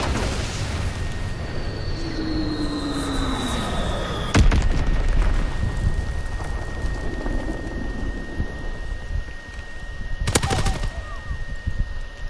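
Artillery and gunfire from the video game Call of Duty WW2, with two sharp, loud bursts of firing over a constant rumbling battle backdrop and a faint whistling tone.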